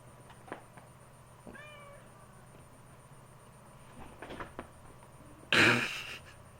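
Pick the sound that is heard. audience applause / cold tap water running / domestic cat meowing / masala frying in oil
domestic cat meowing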